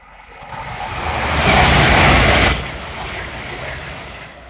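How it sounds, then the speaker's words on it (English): A Hull Trains Class 800 bound from Lincoln to London King's Cross rushes past on the East Coast Main Line, a loud windy roar that builds, peaks for about a second, then drops abruptly to a fading rumble. "the next train to pass by is a Hull Train 800 from Lincoln Central to London King's Cross"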